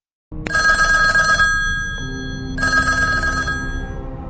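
An old telephone rings twice in a quiet room, each ring a loud, bright trilling burst of about a second separated by a pause, with no voices.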